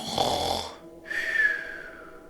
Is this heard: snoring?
yes